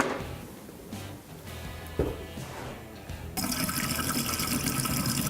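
Water is turned on into a newly installed residential water treatment setup with Viqua UV technology and reverse osmosis, starting as faint gurgling and trickling and then becoming a steady, louder rush of running water partway through.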